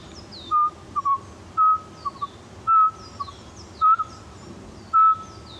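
A person imitates the call of a Eurasian pygmy owl, Europe's smallest owl, with a regular series of short, clear whistled hoots spaced about a second apart, some followed by softer little notes, heard alone.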